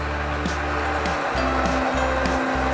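An electric mixer running at low speed while beating marble cake batter, a steady low motor hum with a faint rhythmic whir, constant and fairly quiet.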